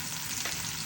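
Chopped large onion sizzling in about a tablespoon and a half of oil in a pan, a steady close hiss of frying with no voices.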